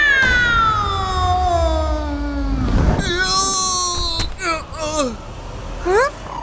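A voice imitates a cat, drawing out long, wavering meows, followed by several shorter, higher mewing calls.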